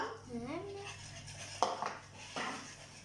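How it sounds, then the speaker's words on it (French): A flat whisk stirs chocolate brownie batter in a bowl, giving faint soft scraping and a couple of light metallic clinks against the bowl, quiet and close. "Toujours avec le fouet plat, c'est un fouet magique"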